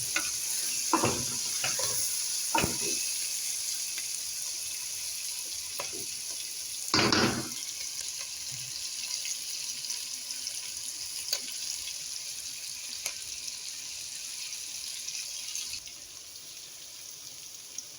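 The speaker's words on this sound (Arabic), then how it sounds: "هنا بديت احمس بيهم كلهم سوا الى ان ياخذون اللون الذهبي" Whole spices frying together in a pan until golden, a steady soft sizzle running throughout, with occasional stirring scrapes and clinks near the start, fairly quiet and free of talk.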